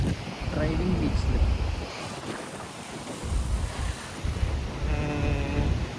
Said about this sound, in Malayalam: അങ്ങനെ ഇതാ നമ്മൾ ഡ്രൈവിംഗ് ബീച്ചിൽ